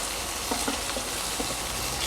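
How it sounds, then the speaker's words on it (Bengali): Fish heads fry hard in hot oil in a pan for kalia, giving a dense, steady sizzle with faint crackles close by and no voices. "এগুলো একটু কড়া করেই ভাজতে হবে।"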